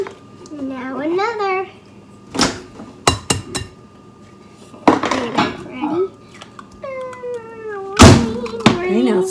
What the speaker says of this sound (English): And then we crack the eggs and put them in there.